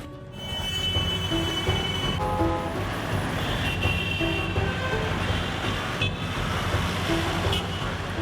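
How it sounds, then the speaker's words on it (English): Busy Cairo street traffic, a steady dense roar of cars and trucks with several horn toots sounding through it, near and continuous throughout. "The streets of Cairo are always full of cars and people."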